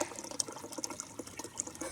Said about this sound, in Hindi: बाल्टी का पानी भर गया है।